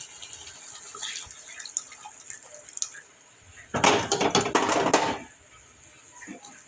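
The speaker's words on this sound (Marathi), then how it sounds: "मग आता यामध्ये आणखी पाणी टाकायचं" Water poured into a cooking pot for shev bhaji, a loud rushing splash of about one and a half seconds rising out of quieter kitchen clatter and drips, then settling back to faint background sounds.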